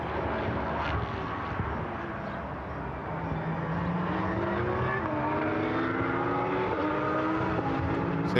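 Porsche and Lamborghini GT race cars at Portimão, engines roaring past with rising and falling pitch as they accelerate and shift, a continuous loud racing drone with overlapping engine notes.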